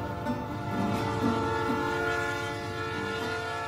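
A Union Pacific train rolls along the railroad tracks near a small country store in Springville, a loud, steady, close rumble with a droning horn-like tone held throughout and no voices.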